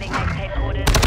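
Loud rapid gunfire from an STB 556 rifle in Call of Duty Modern Warfare 2, a brief dense stretch of shots closing in a sharp burst.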